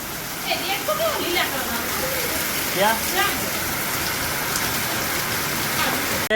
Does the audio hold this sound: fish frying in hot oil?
no